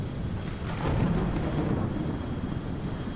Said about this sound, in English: Let's change the weather again to light thunderstorm.